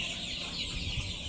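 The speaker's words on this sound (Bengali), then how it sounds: "আমাদের কাছে ফার্মে মুরগির বাচ্চা আছে।" Chickens on a poultry farm, including young birds about 35 days old, cluck steadily at moderate volume over a dense, continuous flock murmur with no talk.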